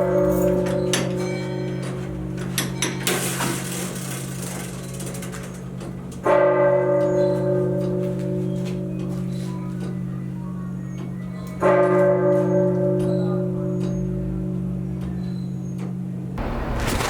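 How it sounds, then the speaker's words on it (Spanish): Clock tower bells of San Luis Obispo strike in three loud, resonant tolls a few seconds apart, each hum decaying slowly beneath a faint mechanical ticking close by. "aquí tenemos las campanas que dependen del reloj"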